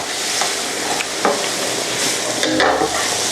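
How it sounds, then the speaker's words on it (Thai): Bean sprouts stir-fried dry in a hot pan give a continuous sizzle, broken by several quick scraping stirs and tosses of the spatula, close and fairly loud with no talking. "แล้วผมก็จะผัดให้แห้งๆแบบนี้เลย ไม่ต้องใส่น้ำแล้ว"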